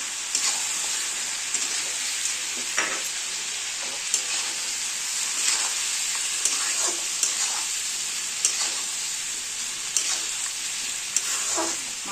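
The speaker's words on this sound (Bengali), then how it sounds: "মাংসটাকে ভালো করে কষিয়ে নেব" Chicken pieces sauté with ginger-garlic paste in a pan for a chicken potato curry, giving a steady, close sizzle throughout with periodic scraping clicks of stirring and no voices.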